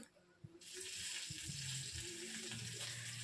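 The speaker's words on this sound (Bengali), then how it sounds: "আর এই যে কাতলা মাছগুলো একটু ঝপ করে ভেজে নিচ্ছি।" Katla fish frying in hot oil: after a brief quiet start, a loud, steady sizzle of oil takes over and holds close and continuous, with faint pan and utensil knocks beneath.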